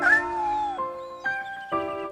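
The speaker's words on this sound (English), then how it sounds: "Is this your kitten?" A small kitten meows four times, close and clear. A long first cry is followed by three shorter calls with brief gaps between them, and nothing else is heard.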